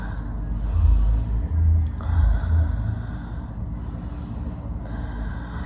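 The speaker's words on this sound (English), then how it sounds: "Then you're gonna take 5 more deep breaths." Slow, deep breaths taken during a calming exercise for panic attacks, several soft airy inhales and exhales with a low rumble, close and fairly quiet with no talking.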